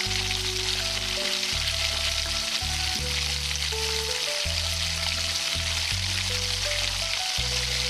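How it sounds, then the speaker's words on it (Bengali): Battered vegetable chops deep frying one by one in hot oil in a kadai, giving a steady, dense sizzle close by with no talking, while low mechanical hum tones step up and down underneath. "এখন আমরা ব্যাটারটাতে ডুবিয়ে এক এক করে সব চপগুলো ভেজে নেব।"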